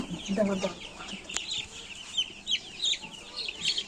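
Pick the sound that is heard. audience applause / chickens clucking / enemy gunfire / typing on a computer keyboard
chickens clucking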